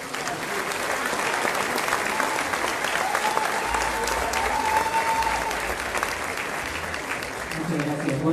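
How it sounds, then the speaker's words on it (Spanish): Sustained audience applause at a Marian Jubilee Year opening ceremony in a church setting, loud and steady throughout with faint voices mixed in. "Vamos a recibirlo con un fuerte aplauso."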